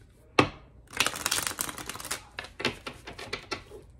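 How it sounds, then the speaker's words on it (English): Quick riffling clatter of cards being shuffled, a sharp burst followed by a run of crisp flutters and taps, close and fairly loud with no talking. "All right, one more shuffle."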